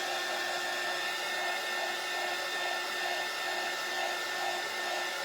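A hair dryer blows on a craft transfer laid over a cutting board, a loud, steady whooshing roar with a constant motor whine that runs unbroken throughout.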